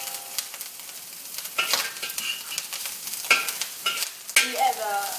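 Dried shrimps stir-fried in a hot pan for a yam abacus dish, giving a sizzle with irregular bursts of scraping and tossing and a few sharp clatters of the utensil against the pan.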